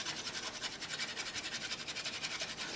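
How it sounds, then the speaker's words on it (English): Extra fine steel wool buffs a heat-patinated brass piece, giving a close, rhythmic scratchy rubbing in quick regular back-and-forth strokes that keep going throughout. "I've got my extra fine steel wool"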